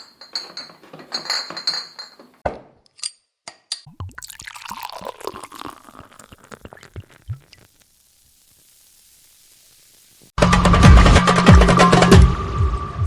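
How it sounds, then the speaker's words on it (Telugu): Glass clinks and small bright taps sound as a liquor bottle is handled and opened, followed by a trickle of liquid, a quiet pause, then a loud, steady fizzing hiss near the end. "ఇంకేముంది, మందు బాటిల్ ఓపెన్ చేయడమే."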